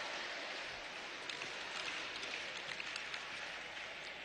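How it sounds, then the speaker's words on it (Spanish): Sustained ovation from an audience at a Flag Day ceremony in Venezuela's National Pantheon, a dense, steady wash of many hands clapping with no voices over it. "Ovación para uno de los hijos de Hugo Chávez"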